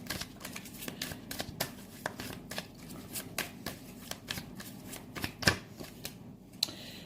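Tarot cards being shuffled before drawing a single card, a quiet run of soft riffling flicks and slaps in an uneven rhythm, close and alone.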